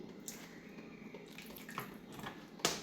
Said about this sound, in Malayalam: ഇനി അതിലേക്ക് കുറച്ച് സുക്ക വിനാഗിരി